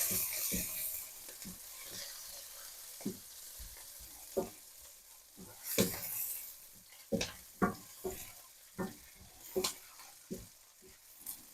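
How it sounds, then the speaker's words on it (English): Mushrooms sautéing in a pan toward golden brown give a soft, steady sizzle, broken by sharp, irregular scrapes and clacks of stirring that grow more frequent toward the end; no one speaks. "We'll saute this until will turn into golden brown."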